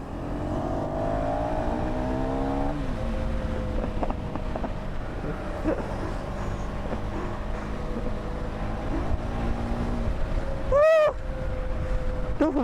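A motorcycle accelerating in third gear on a road trip toward waterfalls near Chennai, with a steady engine drone climbing in pitch under continuous wind rush and a brief sharp chirp near the end.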